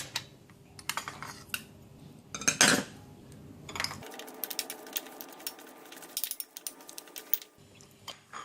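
Minced meat is mixed in a bowl with pepper, cilantro and oyster sauce, giving quick clicking and tapping utensil sounds close by. The tapping comes in irregular bursts, with one louder scrape in the middle.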